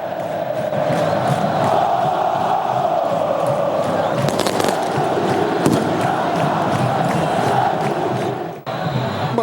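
Loud, continuous roar of Santos supporters packed into a football stadium, celebrating Cícero's volleyed goal, a dense wall of crowd noise that holds for several seconds before briefly dipping.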